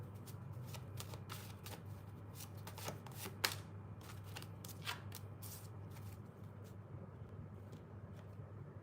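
Tarot cards shuffled for a reading give a long, continuous stream of quick papery riffles and taps over a low steady hum, fairly faint and close, with no talk.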